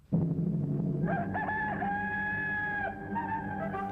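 A rooster crows loudly and close at the opening of a World War II era newsreel, one long rising and sustained cock-a-doodle-doo after a brief clucking lead-in, heard alone without any speech.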